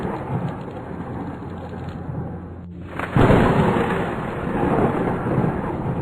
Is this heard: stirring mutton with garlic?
no